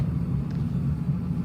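Tow truck wheel lift sliding under a Honda, heard as a steady low mechanical rumble with a continuous engine drone, close and even throughout with no talking.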